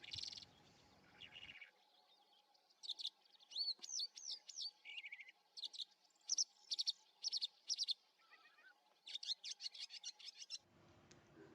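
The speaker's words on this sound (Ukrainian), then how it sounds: "Чимало композиторів у своїх музичних творах намагалися відтворити радісну пісню жайворонка" A skylark sings in open countryside, a rapid stream of high, warbling trills and chirps in repeated bursts, clear and fairly close over a faint steady hum.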